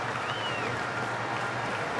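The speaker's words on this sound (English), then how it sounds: "Applause from the dressing room as well." Distant applause from a cricket dressing room as a batsman reaches his hundred in a Sri Lanka v South Africa match, a steady, soft wash of clapping under broadcast crowd ambience, with no talk.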